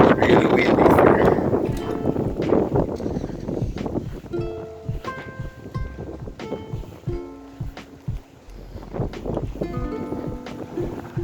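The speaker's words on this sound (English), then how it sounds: "Really windy here." Strong gusting wind during a Minnesota snowstorm buffets the microphone with loud low rumbles, easing after a few seconds, with intermittent knocks and tonal sounds over it.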